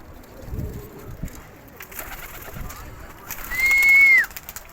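A few soft pigeon coos and rustles sound nearby, ending in a brief, clear whistling call; quiet background otherwise.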